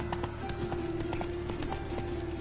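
Horse in The Witcher 3 video game gallops with a quick, steady clip-clop of hooves over a faint background hum, moderately quiet, with no speech.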